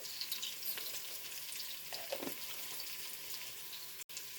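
Meatballs searing in a pan with brown sugar and minced garlic, a steady faint sizzle and crackle with brief stirring scrapes, no talking.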